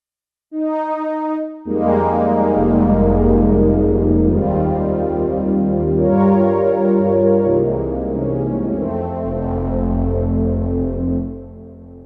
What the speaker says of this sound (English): In this one, I'm going to choose a pad sound.